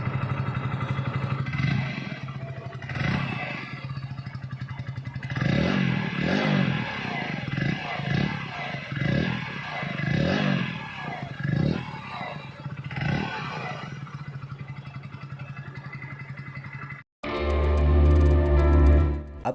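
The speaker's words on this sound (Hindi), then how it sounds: "और अब इसका एग्जॉस्ट नोट सुनते हैं।" Hero Splendor XTEC motorcycle exhaust, a steady single-cylinder putter with a few throttle blips and clattery pulses, close and loud, then a brief cut and a louder burst at the end; no talk.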